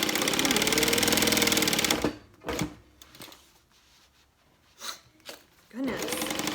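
Sewing machine running a basting stitch on a handbag, a loud close whirr for about two seconds, then a quiet stretch with a few handling clicks and knocks before the machine starts up again at the end.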